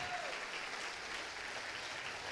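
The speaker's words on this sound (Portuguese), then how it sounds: "Vamos aplaudir ao Senhor." Standing church congregation applauds during a worship service, a continuous wash of clapping heard at a fairly distant, soft level.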